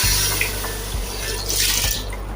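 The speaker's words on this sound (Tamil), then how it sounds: "தண்ணி நான் ஒரு ரெண்டு கிளாஸ் ஆட் பண்ணிடுறேன்" Water pours steadily from a close source into a pressure cooker, a bright splashing rush with a few small bumps and knocks, no voices.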